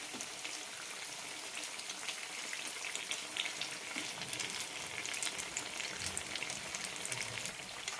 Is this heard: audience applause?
no